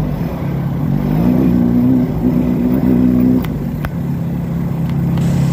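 A large-engined vehicle revs on the road, a loud, steady mechanical drone with a rising tone in the middle that then settles back, continuous and close throughout.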